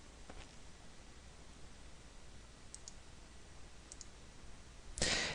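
A single computer key press on a keyboard, a faint click against steady background hiss, followed by a sharper, louder tap at the end, no talking.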